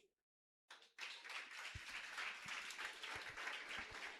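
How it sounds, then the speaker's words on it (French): Wedding guests at a nuptial ceremony break into steady applause after a brief silence, a roomful of hands clapping continuously with a few louder claps near the front. "On applaudit Christy encore"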